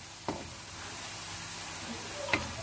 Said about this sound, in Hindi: ये देखिए प्याज ऑलमोस्ट हमारी फ्राई हो गई है